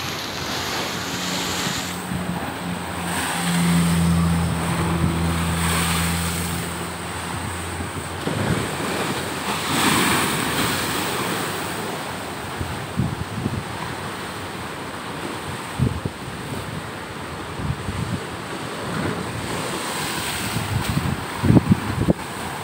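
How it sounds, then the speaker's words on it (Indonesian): Rising tide surf rolls in at Krui beach in Pesisir Barat, Lampung, with a continuous roar of breaking waves and wind buffeting the microphone, loud and steady with sporadic gusty thumps. "gelombang pasang ini gelombang pasang air laut naik ini pak"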